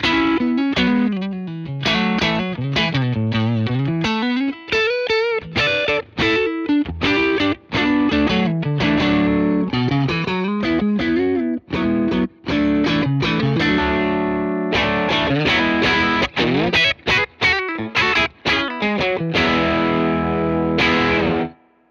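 Electric guitar played through a Fender Compugilist distortion and compression pedal with the tone control swept, dense distorted chords and single notes ringing loud and continuous with brief gaps between phrases.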